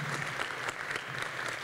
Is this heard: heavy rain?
no